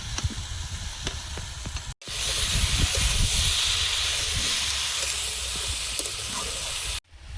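Drumsticks dropped into a hot pan of sea fish curry with potato and brinjal, bursting into loud steady sizzling and hiss that runs for several seconds, with faint stirring clatter before and a sharp cut at the end.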